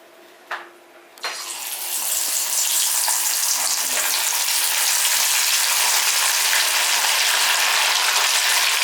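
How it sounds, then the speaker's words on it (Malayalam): Steady, loud hiss and sizzle of small fish frying in hot oil, starting after a couple of sharp clanks and continuing evenly to the end. "എന്നാ പിന്നെ നമുക്ക് അതിൻ്റെ അകത്തിട്ട് അങ്ങ് വറുത്തങ്ങ് എടുത്തേക്കാം"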